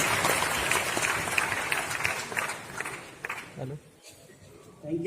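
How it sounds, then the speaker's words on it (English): Audience applause in a conference hall at a national youth conclave, a dense wash of clapping that fades out over a few seconds, with speech heard near the end. "Can we have a big round of applause, everyone, for Shri Sovin?"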